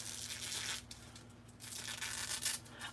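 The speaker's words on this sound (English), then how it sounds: "I like the sound when you use these scissors to cut foil." Crisp crinkling and tearing of aluminum foil as scissors cut through it, two bright bursts separated by a brief pause, close and fairly loud.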